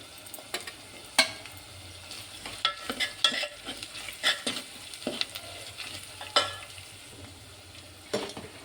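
Chana dal masala curry with turmeric sizzles quietly in a pan, while a spatula stirs and scrapes against the metal in irregular, clattering strokes over the soft, steady frying.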